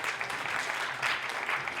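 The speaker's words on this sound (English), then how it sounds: "A huge round of applause," Applause from an audience at an architecture and interiors design debate in Pune, for a panelist being felicitated; brief, even clapping from a moderate crowd.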